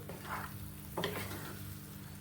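Kundru paste with coconut and prawns being stirred in a pan gives a faint, close scraping and low sizzle, with one brief sharper scrape near the middle.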